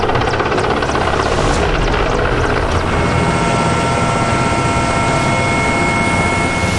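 IAF helicopters flying over a raging forest fire in Uttarakhand, a loud steady rotor and engine drone filling the whole stretch, dense and continuous with no voices.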